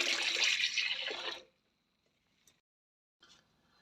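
A litre of water pours steadily into a home-brew beer batch inside a motorhome, a loud splashing stream that stops abruptly, followed by a couple of faint drips and small clinks in the quiet.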